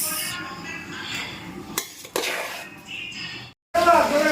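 Fried rice stirred and tossed in a home kitchen pan with a little ghee, giving a continuous scraping clatter of utensil against metal, moderately close, with a brief pause near the end before the scraping resumes.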